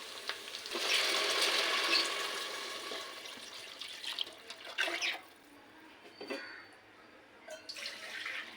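Coconut milk is poured into a cooking pot for coconut rice, a loud liquid rush and sizzle in the first seconds that eases into softer bubbling and occasional clinks and scrapes.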